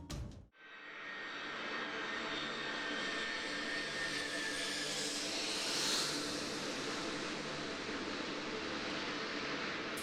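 An Il-76 cargo plane lands at Urumqi airport, its jet engines a loud, sustained roar that rises after a brief cutoff, swells to a peak midway and holds steady with broadband hiss.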